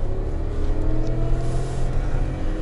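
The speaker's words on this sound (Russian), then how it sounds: "Мотор ревет, но не едем." A Mercedes engine revs hard in low gear off road, a deep, close, continuous roar that swells and holds without easing, with no voices over it.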